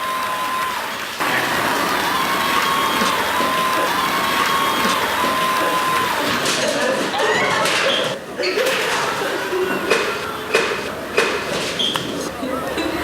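A large crowd cheers and applauds on New Year's Eve 1999, heading into the new millennium, with a dense, sustained roar of voices and clapping, scattered shouts and whistles, and some nearby chatter mixed in.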